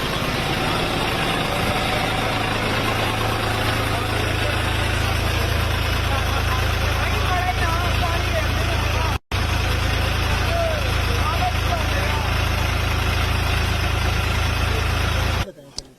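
A tractor engine idles at the Shambhu border with a steady, low, throbbing drone that continues unbroken until it cuts off at the end.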